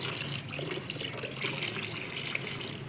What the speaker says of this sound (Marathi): आता झाडाला पाणी कमी आणि आमचं पाण्यासोबत खेळणंच जास्त चालू